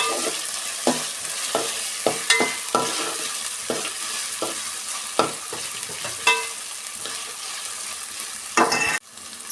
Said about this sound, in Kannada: ಚೆನ್ನಾಗಿ ಈ ಥರ ರೋಸ್ಟ್ ಮಾಡ್ಕೊಬೇಕು ಆಯಿಲಲ್ಲಿ ಬಟಾಣಿನ